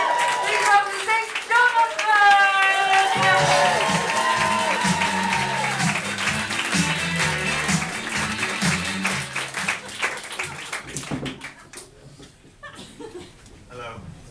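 A stage show audience claps and cheers amid a burst of music with sliding tones and a rhythmic bass line, the applause and chuckles fading toward the end into sparse claps.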